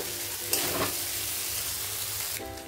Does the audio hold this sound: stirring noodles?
yes